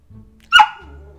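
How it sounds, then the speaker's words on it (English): A single short, sharp dog bark close by, standing out alone against near silence. "Dog."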